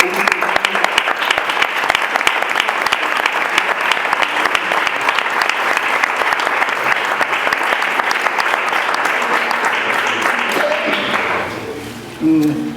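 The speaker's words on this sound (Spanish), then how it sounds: "yo creo que le pediría un aplauso" Loud sustained clapping from the audience at a round-table on the Jerez grape harvest festival, steady throughout, then cutting off abruptly near the end as a voice resumes.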